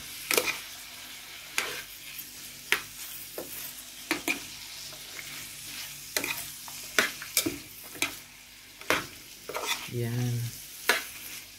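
Vegetables for bihon guisado stir-fried in a pan, a steady sizzle punctuated by repeated scraping strokes of a spatula against the metal, close and clear, with a brief spoken word near the end.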